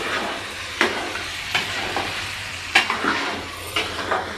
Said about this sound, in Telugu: మంచిగా ఫ్రై అయింది